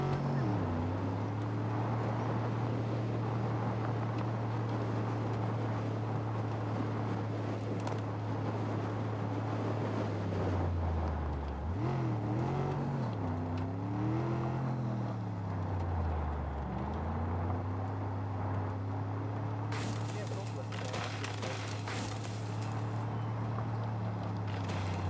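Vehicle engine droning steadily in Far Cry New Dawn, a loud continuous hum that dips and wavers in pitch midway as it shifts speed, then settles back to a constant drive with a brief burst of noise near the end.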